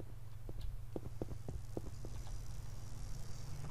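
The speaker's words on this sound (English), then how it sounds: "Donkey." Donkey hooves in the video game Red Alliance, a steady clip-clop of hard, distinct knocks at a walking pace over a low constant hum, moderately close and without talk.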